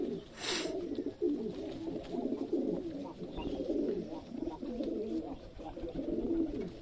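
Domestic pigeons coo in soft, repeated low calls close by, a steady murmuring flock with faint background noise and a brief higher sound near the start.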